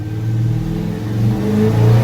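A Dodge Charger fitted with a Badger tuner revs up, its engine droning steadily at first and then climbing in pitch as the throttle is pressed, close and loud with no talk.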